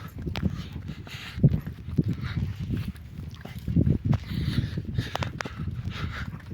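Irregular hoof clops of a horse walking nearby on a mountain trail, steady plodding steps over low rumbling background noise.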